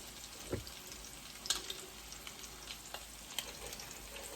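Steady close sizzling and crackling of crab cakes frying in a pan, with occasional sharper pops and a soft scrape.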